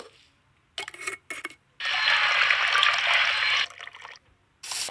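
Water sounds from the Toca Kitchen video game: brief splashy bursts, then a sustained second-long pour-like rush, followed by more short splashes separated by silence.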